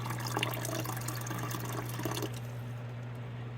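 Water and live minnows poured from a container into a home aquarium tank, a steady close splashing trickle that tapers off toward the end.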